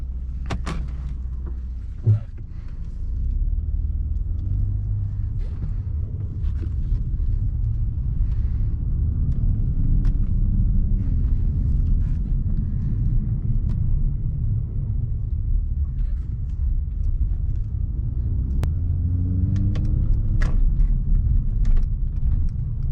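A 2016 Mercedes-Benz C450 AMG driving along, with a steady low engine and road rumble inside the cabin, a single thump near the start, and faint clicks and rattles over the drone.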